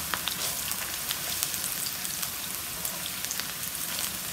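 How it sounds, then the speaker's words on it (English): A close, continuous sizzle of onions frying in oil while a chicken rezala is being cooked, with bright spitting pops scattered through the hiss and no voices. "So just frying it."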